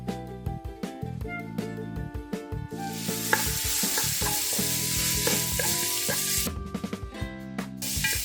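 Onions frying in about three tablespoons of sunflower oil in a pan, a steady close sizzle swelling loud midway, with stirring clatter and scraping at the start and end; no talking.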